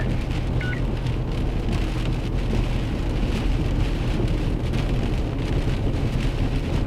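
Steady heavy rain beats on a car during a thunderstorm, with a continuous loud hiss and low thunder rumbling throughout, heard from inside the vehicle with no talking.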